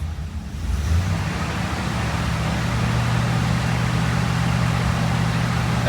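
Engine of a 1966 Cadillac Eldorado cruising down the road at about 2300 RPM, a steady low drone with road and wind noise, constant and fairly loud from inside the car.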